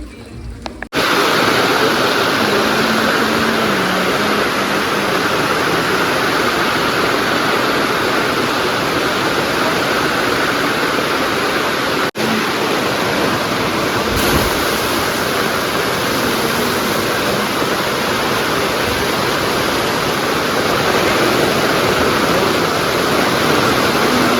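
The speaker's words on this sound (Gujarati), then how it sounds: "વરસાદ ધીમે ધીમે ચાલુ" Light rain falls in a continuous, even hiss that stays loud and unbroken from start to finish with no distinct drops standing out.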